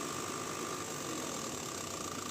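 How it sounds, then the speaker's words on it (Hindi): A common rail diesel engine idles right after starting following injector installation, giving a steady even hum with faint rattle, fairly quiet and with no talk. "इंजन सफलतापूर्वक चालू हो गया है और कोई रिसाव नहीं पाया गया है।"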